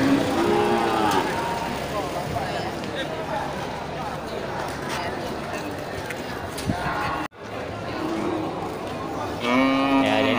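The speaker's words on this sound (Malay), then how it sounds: "banyak terlihat sapi-sapi Aceh untuk sapi penggemukan" Aceh cattle for fattening and slaughter at a crowded Indonesian livestock market, with several moos rising over a constant bustle of people and vehicles while someone talks throughout.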